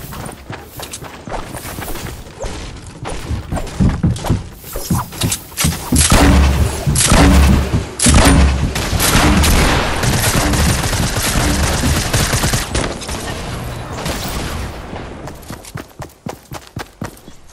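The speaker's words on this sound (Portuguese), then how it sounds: "Um tiro." Rapid bursts of gunfire in Fortnite Season 8 battle royale gameplay from early 2019: dense, loud volleys of shots and sharp impacts that crowd together, peaking midway, then thinning out toward the end.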